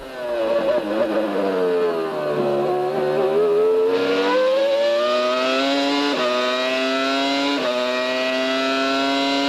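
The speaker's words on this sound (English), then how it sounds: "just listen to that Supertech engine" Formula 1 car with a Supertech engine racing at the 1999 Australian Grand Prix, a loud continuous high-pitched engine wail rising and falling with gear shifts as it passes, no talk.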